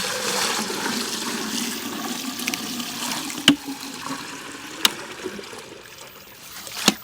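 Water pours steadily into a heavy bucket outdoors for a low tunnel planting setup, a continuous splashing rush with a few sharp knocks, no voices.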